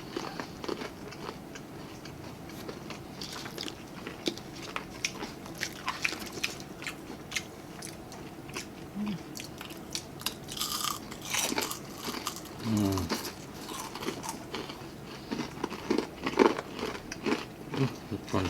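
Mountain popcorn shrimp, eaten with their shells on, crunch loudly under close, steady biting and chewing. Small crackles and wet squishes come through clearly, with no talking over them.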